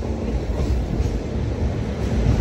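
Passenger train on Indian rails, hauled by a Ghaziabad-based locomotive with ICF coaches, giving a steady broadband rumble and rattle, moderately loud and continuous with no voices.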